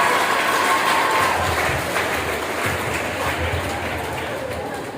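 Applause from a mushaira audience at a college hall, welcoming a poet to the microphone; a dense, steady wash of clapping fills the room and fades slightly toward the end.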